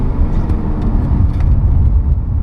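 A car accelerates on the wet Nürburgring Nordschleife with a steady, loud, close engine roar. It holds continuously under a low rumble, and no voices are heard.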